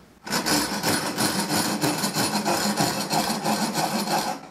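A saw file set in a handle rasps steadily across a workpiece by hand, close and loud, a continuous scraping stroke run without pause for several seconds.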